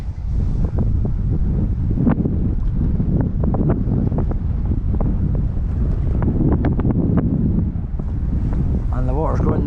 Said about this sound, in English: But I didn't know it was going to be windy